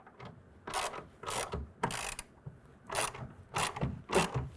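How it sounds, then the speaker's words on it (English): Ratchet wrench tightening the clamp bolt on a Gator EFX hard folding tonneau cover fitted to a GMC Sierra, a series of sharp close clicking bursts in an uneven rhythm with brief pauses, no voices. "grab a 1/2-inch wrench or ratchet and go ahead and tighten that down"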